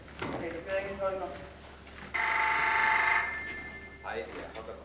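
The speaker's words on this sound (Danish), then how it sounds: "Okay, vi ringer til Holger." A telephone rings while a call is placed, with a brief burst of ringing in the middle of the clip and speech before and after it.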